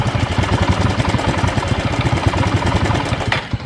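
A Suzuki Spin motorcycle engine that stalls and will not rev runs roughly at a steady idle, with a close, throbbing, uneven putter.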